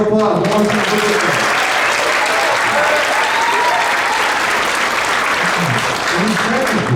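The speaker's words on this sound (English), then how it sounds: "Round of applause. One more time for Brooklyn." Steady, full audience applause for a student award winner at a school winter concert, continuous throughout with a brief voice heard over it at the start and end.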